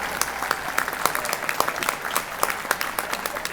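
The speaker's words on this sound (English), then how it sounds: "give them a round of applause" Breakfast event crowd applauding for standing interns, a fairly close, steady patter of many clapping hands with sharp individual claps standing out, continuing evenly throughout.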